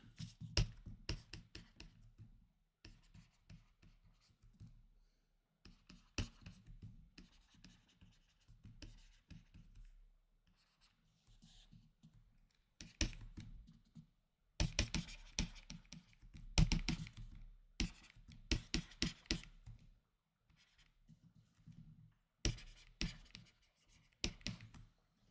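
A pen or marker scratching and tapping as a math statement is written out by hand, in short bursts of strokes separated by brief pauses, close up and quiet with no voices.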